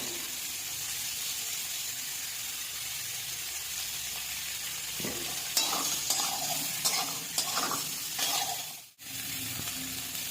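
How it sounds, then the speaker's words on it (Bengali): Cauliflower frying in a pan with turmeric gives a steady, close sizzle throughout, broken midway by a run of rhythmic scraping stir strokes and a brief drop-out before the hiss resumes. "ফুলকপি ভাজা হয়ে গেছে, এবার নামিয়ে নেবো।"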